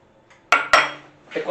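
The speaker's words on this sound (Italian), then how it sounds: "E continuiamo a montare." Apple cake batter with melted butter is worked in a bowl, giving a couple of sharp metallic clinks of a utensil against the bowl and then a softer scraping swish, close and brief.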